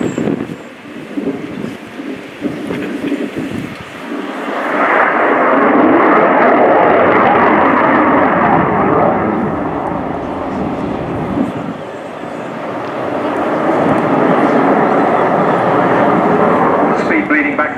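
An F-16 Fighting Falcon of the Belgian Air Component flies its display at RIAT 2015, its jet roar swelling loud and steady, dipping briefly, then rising again, while a commentator talks over it.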